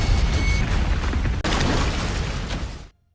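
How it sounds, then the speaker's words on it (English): A massive explosion roars as a dense, sustained rumble, briefly broken by a cut and then continuing before it stops abruptly. "a massive explosion occurred."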